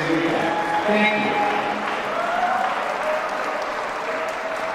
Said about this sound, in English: let's start off by giving yourself a round of applause for all of the players and the fans who participated